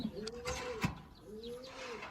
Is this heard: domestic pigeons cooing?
yes